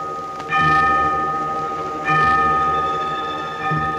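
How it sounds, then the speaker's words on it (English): Church bells ring out in strong, resonant strikes, three peals spaced a second or two apart, each one hanging and slowly fading. "Church bells, too, rang out their peals for help."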